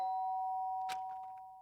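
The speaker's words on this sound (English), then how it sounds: "the sound of the doorbell forced its way into my room" A single doorbell chime rings out in the video game Danganronpa: Trigger Happy Havoc, a clear sustained tone that fades slowly, with a brief soft thump partway through.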